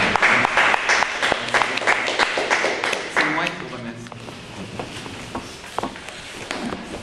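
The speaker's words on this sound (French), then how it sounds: "je te félicite et je t'applaudis" An audience at an academic seminar gives a steady round of applause, with dense clapping that starts loud and slowly fades over several seconds.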